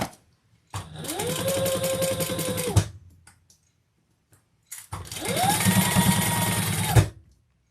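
Sewing machine stitching along the bottom seam of a handbag, two steady motor-driven runs of about two seconds each separated by a pause, close and loud with a rising whine at each start.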